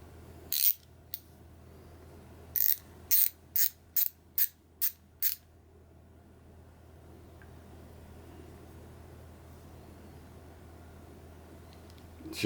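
A ratchet with a 3/8 quick-release head and a 3/8 socket clicks in short sharp bursts, one snap, a pause, then a quick run of about six evenly spaced clicks, close and crisp over a quiet background.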